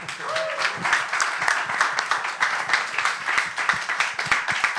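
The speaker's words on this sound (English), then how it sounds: "Big round of applause for our panelists tonight." An audience at a live crypto privacy panel on the Tornado Cash case gives the panelists a round of applause: dense, steady clapping for about five seconds, with a brief voice faintly underneath.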